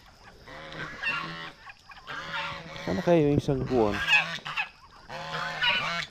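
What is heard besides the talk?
farm poultry, ducks and turkey, calling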